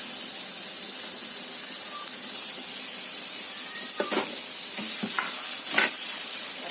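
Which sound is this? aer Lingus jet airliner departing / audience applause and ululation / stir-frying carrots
stir-frying carrots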